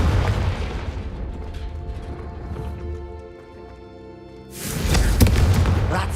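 A Confringo blasting spell in Hogwarts Legacy bursts with a loud rumbling boom, fades to a ringing tail, then a second heavy explosion roars in close.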